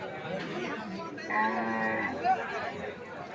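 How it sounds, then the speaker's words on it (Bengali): Cattle low at a livestock market where small cows are sold. One moo rises clearly through the middle over a background of crowd murmur and chatter. "এইগুলো ছোটো ছোটো গাভী"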